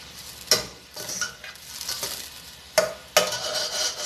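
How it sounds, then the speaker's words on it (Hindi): Shrimp frying in a pan for prawn noodles are stirred, with a steady sizzle broken by a few sharp scrapes and clanks of the utensil against the pan, close and fairly loud, with no talk. "इसके बाद हम इसमें डालेंगे श्रिम्प्स, इसको थोड़ा सा आप इसमें स्टर करें।"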